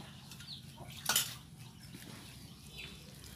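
Vegetarian meatball mixture with mushrooms being mixed in a bowl, giving soft scraping and stirring noises with one brief louder clink of a utensil, over steady low background noise.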